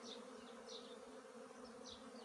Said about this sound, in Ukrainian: Почали вже літати, там ще тільки починають